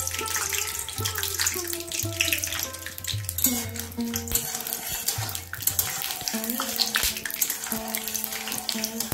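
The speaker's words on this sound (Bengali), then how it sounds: "এবার আমি বাদামগুলো ভেজে নেব।" Peanuts fry in hot white cooking oil while south Indian tamarind rice is being made, giving a continuous bubbling sizzle with occasional louder crackles at close range.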